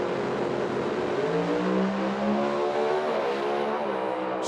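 A Pro Mod drag racing car at an IHRA Outlaw Nitro Series event in Milan roars steadily through a run, a loud sustained engine drone with rising harmonic sweeps as it pulls away, with no talking over it.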